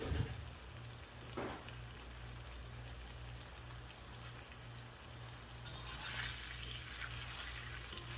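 Beef for Mongolian beef fries in a pan, a steady low crackling sizzle heard close but quietly, with faint pulsing hum beneath and a brighter hiss rising near the end.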